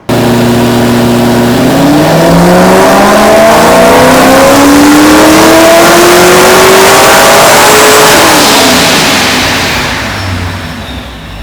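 A supercharged Corvette Z06 V8 revs hard on a tuning run, engine pitch climbing steadily through a long, loud sweep before easing off as the roar fades at the end.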